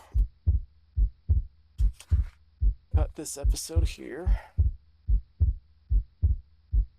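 A Minecraft heartbeat thumps in a steady, even double-beat rhythm throughout, loud and close, while someone talks over the middle stretch.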